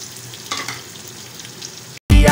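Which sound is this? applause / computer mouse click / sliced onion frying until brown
sliced onion frying until brown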